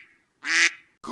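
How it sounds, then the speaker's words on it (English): A duck quacks once, a short, nasal, moderately loud call standing alone in quiet, with the start of another call at the end. "Duck."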